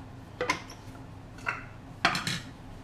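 A lid and measuring cup are fitted onto a food processor holding nuts and icing sugar, giving three short plastic clacks and knocks about a second apart, close and fairly quiet with no talk.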